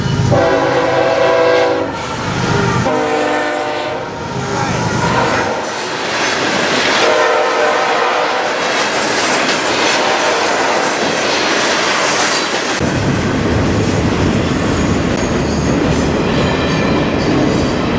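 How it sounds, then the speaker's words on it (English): A freight train, a full rock train followed by intermodal cars, rumbles past close by, its horn blaring in long blasts at the start, then steady wheel roar and clatter from the cars rolling along. "You had basically a full rock train, and then you had intermodal behind it"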